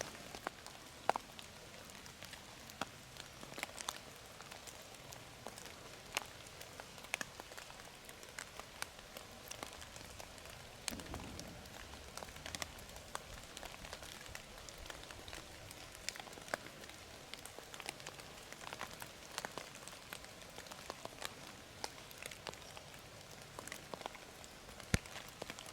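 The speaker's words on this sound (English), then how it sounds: "because it's raining" Rain pours steadily on a Pennsylvania woodland during a severe thunderstorm, a soft continuous patter scattered with sharper individual drops striking leaves and ground, fairly quiet and even throughout with no voices.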